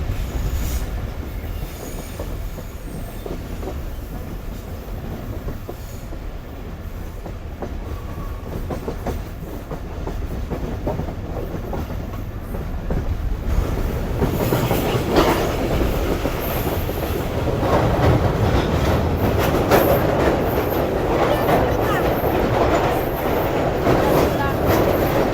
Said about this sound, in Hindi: ये रहा सामने GMU 38-225, जो कि आज हमारी ट्रेन को कराची से लेकर फैसलाबाद तक लीड करेगा।